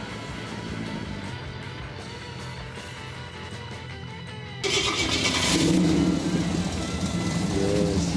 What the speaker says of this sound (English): Glorious sound of a V8 muscle car.